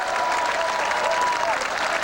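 Thousands of supporters applauding and cheering at a Jean-Marie Le Pen rally on the streets of Paris, a dense continuous roar of clapping and crowd noise at moderate distance.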